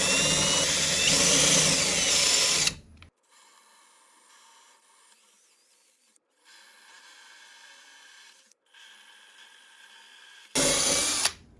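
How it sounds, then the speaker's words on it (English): A drill driver on its drill setting bores holes with a 5/8 inch bit into a wooden bath vanity, a steady loud grinding burst at the start and again briefly at the end, with quieter gaps between. "Using a drill driver, set to the drill setting,"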